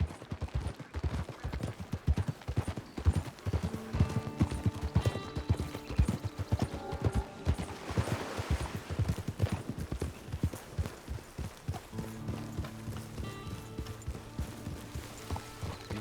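Horse hooves clip-clop steadily at a walking pace in Red Dead Redemption 2, the footfalls close and clear over a low background score, with a brief whinny and the rhythm continuing to the end.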